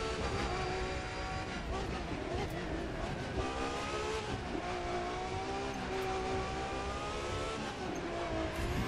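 Race car engines, a Lamborghini among them, roar steadily and loudly during a racing game, with shifting engine pitch, continuous and dense throughout.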